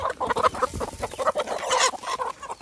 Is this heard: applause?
no